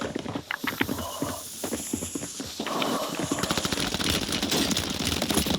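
Rapid gunfire in an online multiplayer shooter game, bursts of clicky shots running through the clip with a denser, steadier stretch of firing in the second half.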